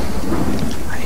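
Rain and rolling thunder in the video game Resident Evil 4, a dense, steady wash of downpour with a deep rumble running through it, loud and continuous without a break.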